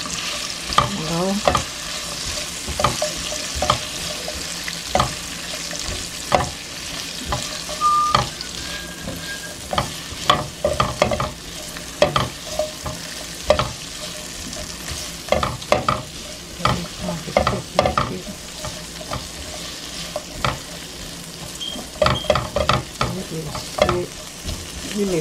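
Sautéed vegetables sizzling steadily in a hot pan, with repeated scraping stirs from a utensil breaking through the loud frying hiss and no talk.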